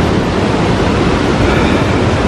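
A mountain torrent rushes on a slope near the Crêt du Midi above Praz-sur-Arly, a loud, dense, unbroken roar of water heard up close with no voices.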